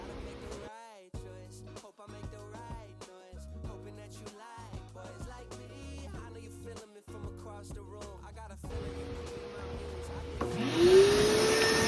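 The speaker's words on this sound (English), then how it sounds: "I've actually already vacuumed out inside this duct area here and down to the end here" A vacuum cleaner sucks debris out of a mobile home's vent duct. Its loud, steady roar with a rising whine comes in near the end, after a long stretch of rhythmic music.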